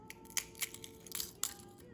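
Brittle eggshells being crushed by hand into calcium powder for reptiles, giving a few sharp, close crackling crunches spread across a quiet background.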